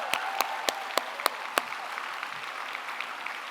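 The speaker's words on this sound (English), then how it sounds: "Give them all a round of applause." An audience applauds at the Voices for Gaza evening event: a dense wash of clapping with a few sharp, close claps standing out early, then tapering and thinning toward the end.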